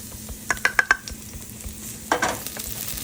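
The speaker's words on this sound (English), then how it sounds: "Now we're gonna get that a nice little quick saute here" Garlic sautéing in coconut oil over medium heat: a low, steady sizzle with a quick run of four sharp utensil clicks against the pan, then another cluster of taps a moment later.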